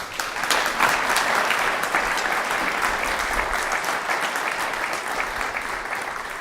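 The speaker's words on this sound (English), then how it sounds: "Let's have another round of applause." A graduation honoring ceremony audience gives a dense, sustained round of applause, loud and even throughout, with many hands clapping together and no voices standing out.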